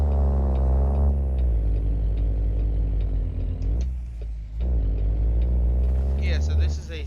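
A 700-horsepower truck engine in American Truck Simulator, hauling a heavy load from a rail yard, drones with a deep, loud rumble whose pitch shifts as it revs through gears, while someone talks over it.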